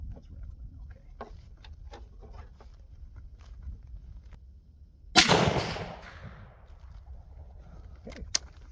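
A Finnish M39 Mosin Nagant rifle fires its last round, one loud, close crack with a rattling, echoing tail that fades over about a second, after a few faint clicks and handling noises.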